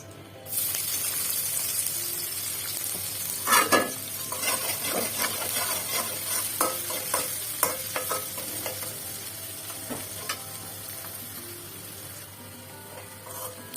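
Steady sizzling of chopped onions frying in a pan, with scraping and stirring clicks from a spatula, continuous and close, no voices.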